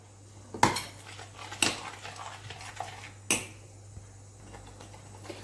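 A metal spoon knocks against a pot while tomato soup with tomato puree is stirred. A few sharp, close clinks sit among quieter scraping and low kitchen hum.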